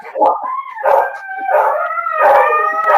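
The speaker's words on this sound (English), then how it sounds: "Oh, those dogs are loud." Several dogs bark and howl loudly in overlapping bursts, rising and falling tones layered together for about three seconds with no talk over them.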